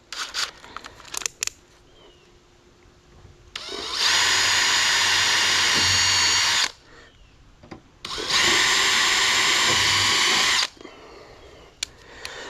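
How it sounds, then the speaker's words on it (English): A power drill with a fiberglass bit whines loudly through two long drilling bursts into a boat hull, each lasting a few seconds, with short quiet gaps and a few clicks between them. "go back to the fiberglass bit"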